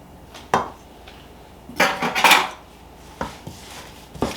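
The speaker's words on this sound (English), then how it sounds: "Now I'm just going to mix this all together." A utensil scrapes and clacks against a bowl in scattered bursts while cornbread dough is mixed with melted butter, close and fairly crisp, with quiet pauses between strokes.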